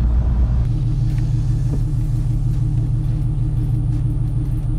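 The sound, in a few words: boosted manual Ford Mustang engine accelerating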